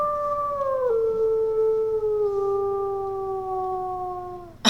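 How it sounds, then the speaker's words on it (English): A wolf in the video game WolfQuest gives one long, steady howl into trees, a clear sustained tone that drops slightly in pitch partway and holds for several seconds, close and alone. "I love how Blizzard's just howling"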